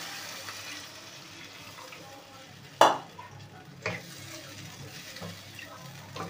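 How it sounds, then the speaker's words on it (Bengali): A fried spice paste in a pan, with water added for a fish curry, gives off a low, steady sizzle. Two sharp knocks of a utensil against the pan stand out, followed by quieter stirring sounds. "এবার পরিমাণ মতন জল দিয়ে দেবো।"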